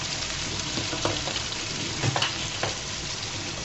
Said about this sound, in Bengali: পেঁয়াজ রসুন আর চিংড়ি মাছগুলো যখন ভাজা হয়ে যাবে